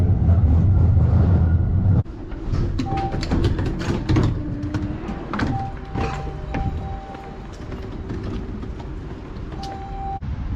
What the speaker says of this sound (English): Let's take a tram to Nowa Huta.